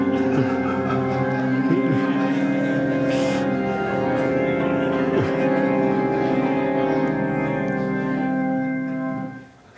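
Sustained rock organ tones play a continuous run of chords and notes, loud and full, fading out abruptly at the end.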